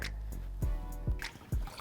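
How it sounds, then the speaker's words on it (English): Water runs into an emptied tomato sauce can while chili is being cooked. It makes soft, close, liquid glugs and splashes in a few uneven bursts over a low background hum, with no talking. "fill it all the way up to the top with water"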